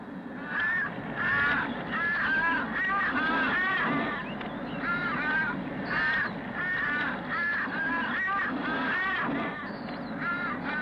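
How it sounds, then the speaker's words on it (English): Several crows caw repeatedly in ragged bursts over a wilderness vehicle route, harsh calls overlapping at moderate distance against a low background rumble. "crows gather overhead, waiting to squabble over the remains"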